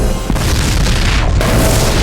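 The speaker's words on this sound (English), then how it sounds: "racing away from the explosion" A loud, sustained film explosion as characters race away, a dense low roar that fills the whole two seconds with a sharp burst near the start.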